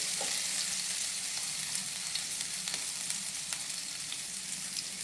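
Chopped green chillies fry in a pan during a live Indian home-cooking session, giving a steady, close sizzling hiss dotted with small crackles and pops throughout, with no talking.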